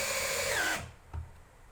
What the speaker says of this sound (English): We then want to secure the two parts of the one leg by using our wood screws.